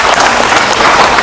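Brief burst of applause from an audience at a district artists' association meeting, dense steady clapping filling the whole moment with no voices over it.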